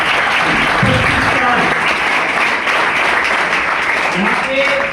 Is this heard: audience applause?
yes